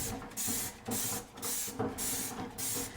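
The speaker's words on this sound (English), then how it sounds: "I'm going to spray it with some Dawn Power Wash" Four quick bursts of Dawn Power Wash from a trigger spray bottle at a sink, each a short hissing squirt separated by brief pauses, close and clear.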